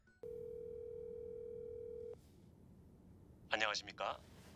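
A steady telephone tone sounds for about two seconds, then stops; after a short hush a voice speaks briefly.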